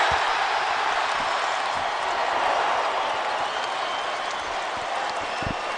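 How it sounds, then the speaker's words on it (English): An NBA arena crowd at a Lakers game gives a standing ovation for Kobe Bryant, a sustained, dense roar of applause and cheering that holds steady and loud throughout. "This entire crowd on its feet, including my partner, for the night at least"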